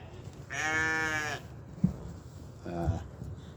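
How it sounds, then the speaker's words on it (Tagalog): Goats bleat twice, one long quavering cry followed by a shorter one after a pause, close by with a brief thump and faint voices between. "Meron dito iba-ibang klase ng kambing."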